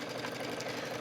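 Sewing machine running a stretch stitch with the needle swinging back and forth, a steady, fast mechanical chatter heard close and alone for a moment.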